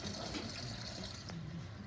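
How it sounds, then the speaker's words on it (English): Cold water pours into a measuring container to bring it up to 1000 ml, a soft steady splash and trickle heard close and quiet, with no one talking. "I need to add a little more water to this. It can just be cold water."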